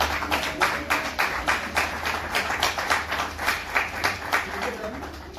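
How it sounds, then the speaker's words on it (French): Wedding guests at a civil marriage ceremony clap for the witnesses in a fairly even rhythm, a steady run of distinct claps close to the listener that lasts about five seconds. "Applaudissez pour les témoins."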